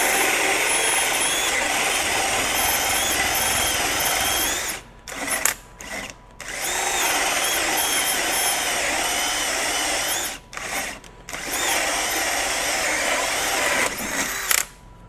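A RIDGID 18V SubCompact cordless drill bores through wood with a 2 1/4 inch bit, whining loudly and steadily for long stretches, broken by brief stops and short restarts.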